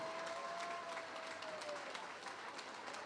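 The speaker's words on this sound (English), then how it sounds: "give these two a huge round of applause." Crowd applause for two amateur fighters after a five-round UKFC bout, a dense steady clapping wash filling the hall at moderate level, with a faint whistle-like tone early on.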